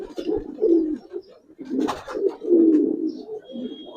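Giribaz pigeons coo together in a close, overlapping chorus of low throaty rolling calls, rising and falling in bursts with short pauses between.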